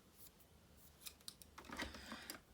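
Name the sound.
scissors cutting a glued card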